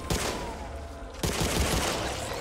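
Hip-fire gunshots in the Back 4 Blood game, a dense burst of rapid shots that pauses briefly and then resumes, loud and close with no talk over it.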